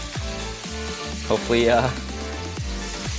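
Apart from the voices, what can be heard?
beef brisket sizzling in oil on a hot pan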